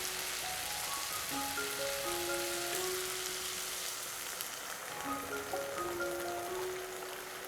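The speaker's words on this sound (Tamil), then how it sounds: "இப்போ தண்ணி ஊற்றிடலாம்." Water poured into a hot pan of vegetables and potatoes for rava khichdi, giving a loud, continuous hissing sizzle with bubbling crackle that runs throughout and eases slightly toward the end.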